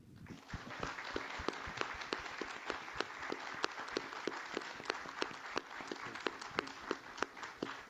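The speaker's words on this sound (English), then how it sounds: "I want you to all give a warm round of applause to our star" A live audience claps warmly for the star Divine at a panel event, a dense, steady round of applause with sharp individual claps standing out, sustained throughout.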